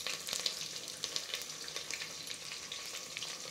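Capsicum and mint fry together in a pan with a soft, crackling sizzle broken by small pops and stirring scrapes, near but fairly quiet, with no talking.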